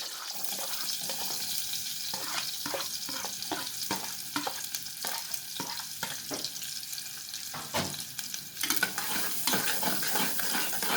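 Chopped onion sizzles steadily in melted butter for cauliflower with minced meat, a continuous close frying hiss broken by repeated clicks and scrapes of stirring, with no talk.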